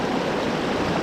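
The Truckee River rushes in a constant, loud, broadband hiss of flowing water, close and steady with no voices.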